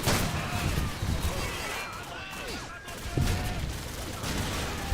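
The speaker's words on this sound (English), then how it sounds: "This fucking guy is using a shotgun." Shotgun fire in an online shooter game cracks out in scattered, fairly faint blasts beneath a busy background of game noise.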